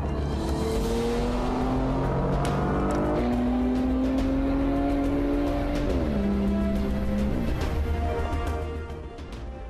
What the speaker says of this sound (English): But if you really bring out the performance, it sounds just like the Porsches we've always known.